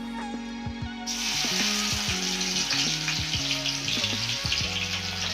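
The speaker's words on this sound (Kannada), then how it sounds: "ಈಗ 2 ಬೆಳ್ಳುಳ್ಳಿ ಸುಲಿದ ಅದನ್ನು ಜಜ್ಜಿ ಇಟ್ಕೊಂಡಿತ್ತು, ಅದನ್ನು ಈಗ ಇದರಲ್ಲಿ ಎಣ್ಣೆ ಹಾಕಿ ಫ್ರೈ ಮಾಡ್ಕೋದು ನೋಡ್ರಿ." Crushed garlic dropped into hot oil in a pan, with a loud steady sizzle that starts abruptly about a second in and keeps going, with occasional soft clinks of a utensil.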